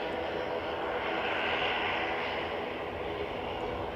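A Ryanair airliner takes off at Manchester Airport, its engines a loud, steady roar that swells slightly midway and holds broad and continuous for the whole stretch, with no voices over it.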